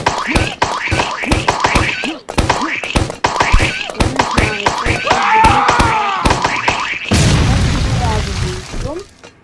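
Rapid bursts of gunfire in the video game Escape from Evil Cop Barry, sharp repeated shots in a fast rhythm, followed by a louder, noisier blast near the end.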